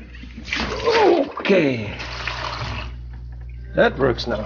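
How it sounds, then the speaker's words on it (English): A dishwasher being unclogged starts up, with water splashing and sloshing inside it in two bursts, loud and close, while a person talks over the noise. "now I'm gonna turn on the dishwasher"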